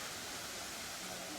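A sparse, drought-thinned waterfall at a local park in Seattle hisses as a soft, continuous wash of trickling water, faint and steady throughout.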